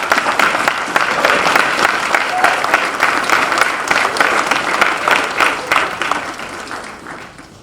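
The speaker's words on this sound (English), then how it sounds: "I'd like to just give them a big round of applause." Sustained audience applause at an MLK Jr. celebration event hosted by a church, dense steady clapping from a large crowd that holds strong for several seconds before tapering off at the end.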